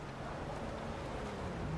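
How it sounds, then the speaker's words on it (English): Windy weather in the console video game Rust on PS5 gives a steady, broad rushing noise with a faint low rumble underneath, continuous and even throughout. "You can hear the wind in the air and stuff."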